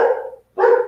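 A dog barks twice up close, loud and clear, with a short pause between the two barks.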